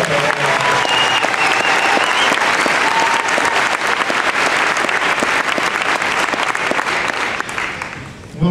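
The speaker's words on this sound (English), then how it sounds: "So how about a big round of applause?" Loud, sustained applause from a large audience at a 2008 high school graduation ceremony, dense and steady for about eight seconds before thinning out at the end.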